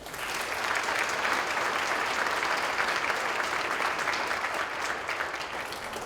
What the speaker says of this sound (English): Help me give a round of applause to all these other essential partners in the community.